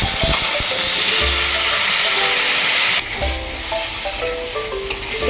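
Chopped tomatoes and jujube (kul) hit hot spiced oil with a loud, dense sizzle that drops sharply after a few seconds into a quieter crackle, with a few clinks of the pan close by.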